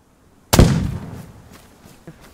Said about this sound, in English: Let's just shoot it.